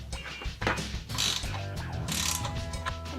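A ratchet wrench clicks in quick bursts while tightening the quarter-inch bolts on a Rough Country LED grille light mounting bracket, the close metallic ratcheting heard alone and fairly loud.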